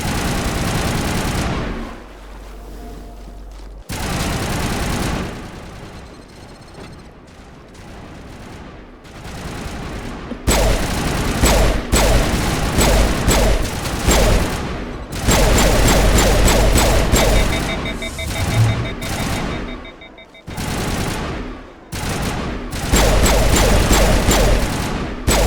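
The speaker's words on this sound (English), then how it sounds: "Autovi is under coordinated crossfire" Heavy gunfire crackles through a crossfire battle in the video game Mass Effect, loud and dense for long stretches, with a rumbling low drone beneath and a few brief lulls between bursts.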